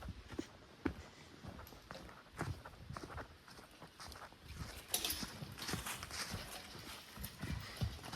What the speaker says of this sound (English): Now they're pulling nice and even,